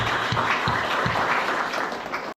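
Audience applause at a Christmas celebration in a Nepali Baptist church, a steady burst of many hands clapping together for about two seconds before stopping abruptly.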